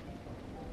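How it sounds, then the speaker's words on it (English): Steady rain falls in a survival video game, a dense, even hiss of drops on surfaces with a low rumbling undertone, continuous and fairly soft, with no talking. "And it's raining."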